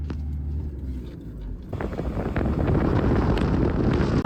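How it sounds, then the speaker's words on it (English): A car drives along a beach, giving a loud, steady rumble of tires and engine that grows louder and rougher partway through, with heavy wind buffeting the microphone and no talking. "So we're going to go drive along the beach instead for a little bit to get some new scenery."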